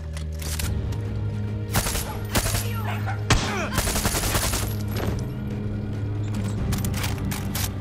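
Sustained gunfire in the shooter Far Cry 6, repeated loud shots and automatic bursts cracking over a steady droning background throughout.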